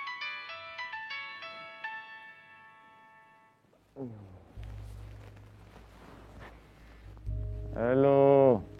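A phone rings with a melodic tone for an incoming call, a short tune of descending notes at first, followed by other sounds and a voice speaking near the end.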